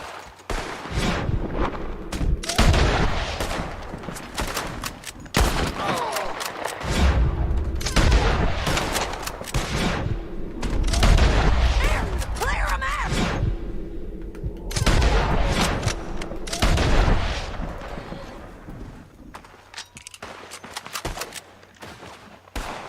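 Repeated bolt-action rifle shots in Red Dead Redemption 2, loud booming cracks spaced a few seconds apart with echoing tails, fired during a cliffside fight with no talking.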